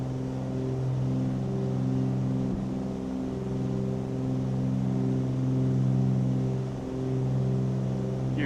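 A Cessna 414 twin piston-engine plane climbing just after takeoff in Microsoft Flight Simulator 2020, a steady, droning engine hum that swells and eases slightly, heard close and alone.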